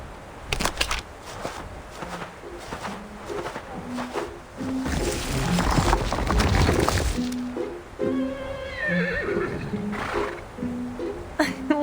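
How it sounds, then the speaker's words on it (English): A horse neighs in the video game Reverse: 1999, a short whinny rising and falling near the end, set against game music and ambient effects. "Sounds like a horse to me."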